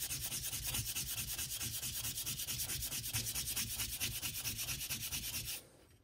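A scooter cylinder sanded by hand: steady, rhythmic back-and-forth rubbing strokes, close and even, ending abruptly near the finish.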